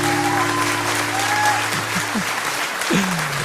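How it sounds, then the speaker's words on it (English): Steady, close applause from an audience at a live music show, dense clapping heard the whole time with a faint tone sounding underneath. "Love those claps."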